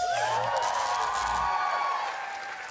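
Studio audience at a Masked Singer UK taping cheers and whoops loudly, voices rising and falling in a dense crowd roar with scattered clapping.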